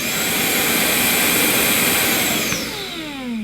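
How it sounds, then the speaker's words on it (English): A Vax ONEPWR Blade 4 Pet cordless vacuum cleaner runs with a loud, steady motor roar and high whine, then winds down near the end as its pitch slides lower. "the cleaner will stay on until you press it again"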